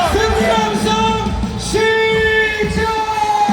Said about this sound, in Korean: 승리 함성